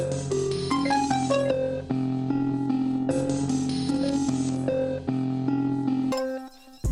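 Layered melodic synth and sample lines with the low end filtered out and a halftime effect applied, playing continuously in a steady loop before dropping to a brief sparse tail at the end.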